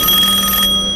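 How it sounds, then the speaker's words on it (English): A telephone rings loudly and close, a rapid metallic bell trill that stops abruptly partway through, with no voices. "All of a sudden the phone rings and scared the bejesus out of me."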